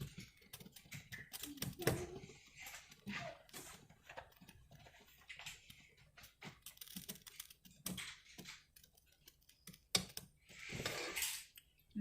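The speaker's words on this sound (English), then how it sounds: "Now while I'm stirring, I can actually see it getting a little bit thicker with all those ingredients that we added." Elderberry syrup with honey thickens in a pot on a stove as a spoon scrapes and clicks against the sides in faint, irregular strokes close by.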